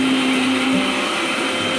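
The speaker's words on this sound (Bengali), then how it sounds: "গ্রাইন্ড করা হচ্ছে মশলা মাছে টমেটো দিয়ে কাঁচা লঙ্কা পেস্ট" An electric kitchen grinder runs steadily at full speed, blending spices with tomato and green chili into a paste, a loud continuous whirring drone from start to finish.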